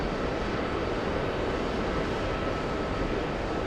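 A fixed-wing airplane taking off from an LA airport, its engines producing a steady, loud broadband roar that holds evenly throughout with no talking.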